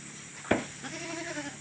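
A goat in a pen where women are shoveling out goat manure gives a short, wavering bleat at moderate distance, with a faint knock and steady background hiss around it.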